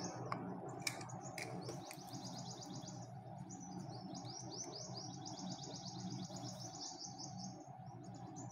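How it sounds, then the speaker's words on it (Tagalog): Birds chirp and trill in quick repeated bursts over a steady low background hum, fairly faint and somewhat distant. "Narinig niyo po ba yung mga huni ng ibon?"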